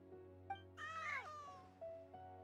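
Cats meowing in the Genshin Impact video game, a faint, drawn-out meow with a wavering pitch followed by shorter mews over a low, steady background hum.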